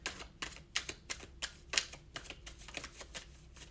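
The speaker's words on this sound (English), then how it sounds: "So we'll keep shuffling until we get the 4th one that they wanted." Playing cards are shuffled in a quick run of crisp riffling clicks and snaps, close and clear, with no talking.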